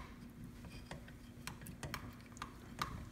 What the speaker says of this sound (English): I'm just gonna stir that in to kind of help evenly